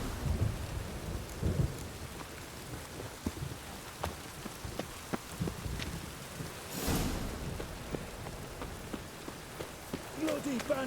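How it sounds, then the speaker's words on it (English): In a video game, rain patters steadily while rolling thunder rumbles and cracks, with one louder burst midway and scattered sharp drop-like ticks, fairly faint overall. "Mad running around in this rain."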